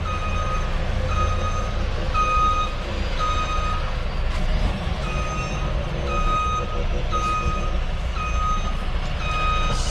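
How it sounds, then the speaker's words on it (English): A truck's reversing alarm beeps steadily in a small town, evenly spaced high tones repeating for the whole stretch over a constant low engine rumble, heard from inside a vehicle. "Sick of all that beeping."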